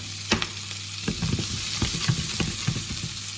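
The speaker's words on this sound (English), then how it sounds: "I'm just going to pop the onions in for about 5, 6 minutes, just soften them down" Chopped onions soften in a hot pan for Christmas Brussels sprouts, giving a steady loud sizzle broken by sharp clinks and scrapes of stirring.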